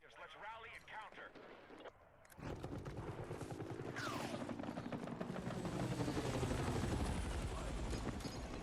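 A helicopter in Battlefield 6 thrums with a rapid chopping rotor pulse that swells loud and stays close, mixed with game gunfire and battle noise.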